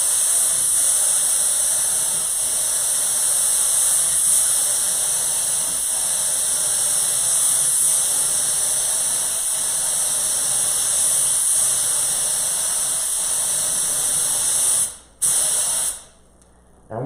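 A spray gun lays HOK clearcoat onto a car panel in one long, steady, loud hiss that holds for about fifteen seconds before cutting off twice near the end.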